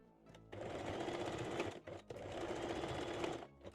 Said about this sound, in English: Then secure the strap loops in a place with the straight stitch.